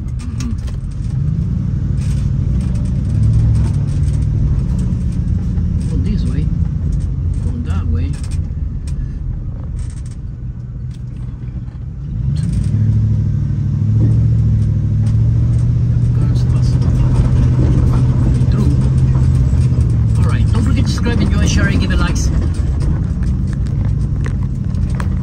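A car driving on a busy Pennsylvania highway, Highway 309, with steady engine and road hum throughout, briefly quieter midway, while someone talks over it.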